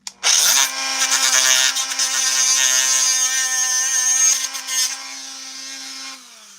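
Dremel rotary tool with an old worn bit grinding plastic cosplay armor for a Purge Trooper build, a loud steady high-pitched whine that spins up sharply, holds for several seconds, then winds down.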